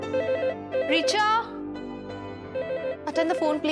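A telephone rings in repeated electronic trilling bursts, with brief voice-like sounds between the rings.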